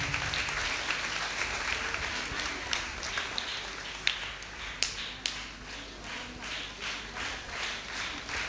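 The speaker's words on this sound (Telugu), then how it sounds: "గట్టిగా చప్పట్లు కొడదాం" Audience applause at a church honouring ceremony for a priest, steady dense clapping throughout with a few sharper individual claps standing out, fading slightly toward the end.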